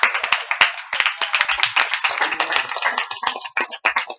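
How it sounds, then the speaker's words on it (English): Hands clapping at a going-away party for Charles Taylor, a small group giving brisk close applause with sharp distinct claps that thin out toward the end. "Please give a warm round of applause,"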